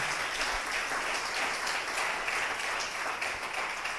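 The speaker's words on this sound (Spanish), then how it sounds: "Si vas a aplaudir al Señor, apláudele con ganas." A church congregation applauds steadily during a sermon, a dense, even wash of many hands clapping together with no speech over it.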